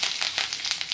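Curry leaves hitting hot oil in a kadhai with cumin and asafoetida for a mixed vegetable tempering, giving a loud, dense crackling sizzle with sharp spitting bursts throughout.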